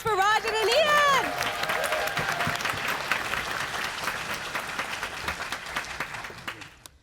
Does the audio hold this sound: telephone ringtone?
no